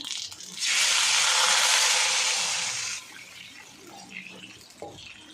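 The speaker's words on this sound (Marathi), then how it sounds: "आता आपण लगेच याच्यामध्ये पाणी घालून घेऊया" A loud burst of water gushing into a cooking pot for about two seconds, then fading to quiet clinks and light handling sounds.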